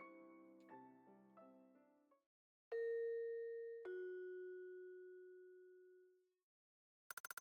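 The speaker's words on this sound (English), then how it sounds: "The sound of a doorbell." Doorbell in a video game set at Saihate Station, a quiet run of chiming notes, then two long ringing tones, a ding-dong that decays slowly into silence, and a brief burst of rapid tones at the end.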